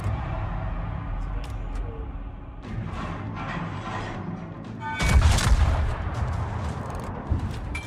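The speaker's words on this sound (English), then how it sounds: "Concentrate fire on the enemy warship." Warship gunfire in a naval video game, booming salvos rolling out with a heavy blast near the middle, over continuous low battle rumble.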